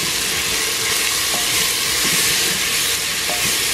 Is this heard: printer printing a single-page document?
no